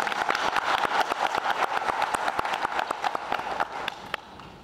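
Dense audience applause at an official welcome event, many hands clapping at once in a steady, close crackle that fades slightly toward the end.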